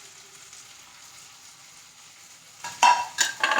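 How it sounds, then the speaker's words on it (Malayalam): Tomatoes and green chilies dropped into a pan of frying onions for a prawn roast, a quiet low background giving way to a sudden loud sizzle and stirring bursts near the end, with no talk. "അപ്പോൾ അതിൽ നമുക്ക് അതിലേക്ക് ഉണ്ടല്ലോ ഈ തക്കാളിയും പച്ചമുളകും കൂടി ഇട്ട് കൊടുക്കാം"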